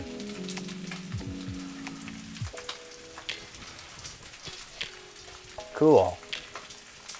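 Fried rice with bacon fat in a cast iron pan, a steady soft sizzle under background music and a short spoken word.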